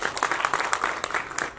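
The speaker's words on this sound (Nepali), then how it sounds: "एकचोटि जोरदार ताली।" Audience applause at a Nepali film event for Senti Virus, a dense steady patter of many hands clapping at moderate level, no talk.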